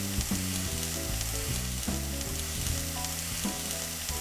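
Crab meat, leeks and peppers sizzle steadily in a hot pan, a loud continuous frying hiss close by with occasional soft stirring knocks.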